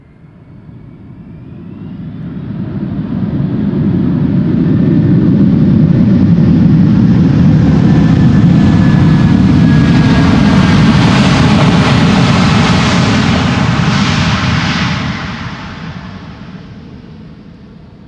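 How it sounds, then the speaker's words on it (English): Delta Air Lines Airbus A330-300 landing at Amsterdam Schiphol, a loud, steady jet roar that swells over several seconds, holds, then fades, with no voices over it. "Delta Airlines flight 162 arriving from Minnesota, Minneapolis. A330-300."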